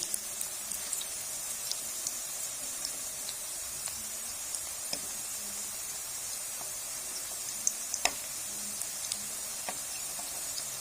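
Potato koftas fry in a pan with a steady, soft sizzle and crackle throughout, broken by occasional light clicks and taps as they are turned one by one.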